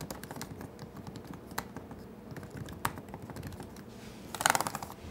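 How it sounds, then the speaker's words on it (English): Quick, light clicking rattles from the second-generation butterfly keyboard of a 2016 15-inch MacBook Pro as someone types steadily, with a brief louder burst of keystrokes near the end. "you have a second generation butterfly keyboard"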